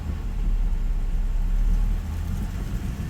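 A 2002 Camaro SS V8 runs in sixth gear while stationary, loaded against the brake pedal, giving a steady deep low rumble that holds even throughout, close and without speech.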